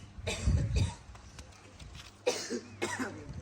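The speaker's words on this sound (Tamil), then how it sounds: "என்ன இருமலே" Two close, harsh coughing fits, each with a few rough bursts, separated by a short quiet gap.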